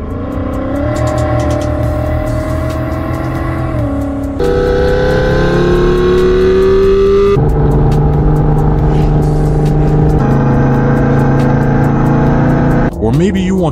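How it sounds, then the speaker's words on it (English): A car sound device plays synthetic supercar engine revving through a car, loud and close, with several sustained rising and falling tonal rev sweeps shifting pitch in distinct segments, ending with a quick sharp change. "With Rumor Sound, you can make your car sound like any supercar you want"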